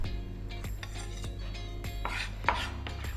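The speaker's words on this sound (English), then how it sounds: "just a rough chop and into my mortar and pestle with that" Knife chops roughly through fresh coriander on a board, a quick run of close, sharp taps, followed by a clunk and clink as the leaves drop into a mortar and pestle.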